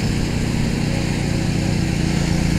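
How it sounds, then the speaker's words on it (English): Lawn mower cutting grass in an airport viewing area, a continuous droning engine hum at moderate distance with steady, unbroken level. "mind the extra noise on the background. It's mowing day here in the viewing area."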